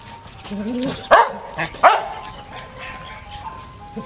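A dog gives a few sharp barks close by during a training session, two louder ones in quick succession, with people talking quietly in between.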